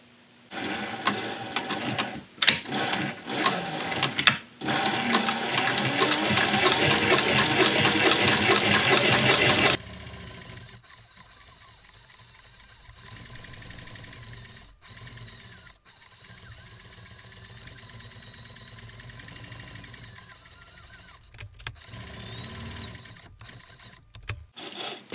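Sewing machine stitching a leather knife sheath in one pass, a loud rapid mechanical chatter for about ten seconds, then quieter handling and shuffling noises.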